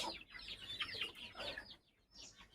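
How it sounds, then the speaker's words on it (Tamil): Several quick, chattering clucks from a guinea fowl, close by, in short irregular bursts with a brief pause near the end. "எங்கே போச்சு இந்த கிண்ணி கோழி எங்கே போச்சு இந்த குச்சி கோழி"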